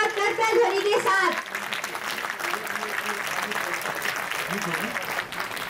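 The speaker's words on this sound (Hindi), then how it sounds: "तो कृपया तालियां बजाइए एक बार जोरदार करतल ध्वनि के साथ" An audience in a college auditorium at a DUUS inauguration event breaks into applause after a brief voice at the start, with a broad wash of many hands clapping that holds steady to the end.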